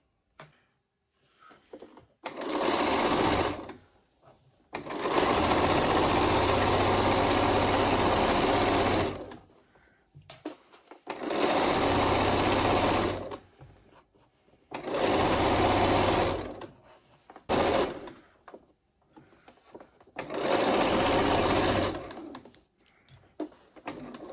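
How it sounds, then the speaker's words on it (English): Sewing machine stitching slowly through six layers of thick fleece for a kids' hat, running in four or five steady bursts of several seconds each, separated by short pauses, close and loud with no talk. "So I'm going to stitch from here all the way along to the end here."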